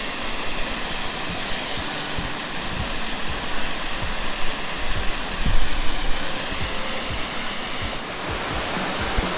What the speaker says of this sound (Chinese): 哇，这个瀑布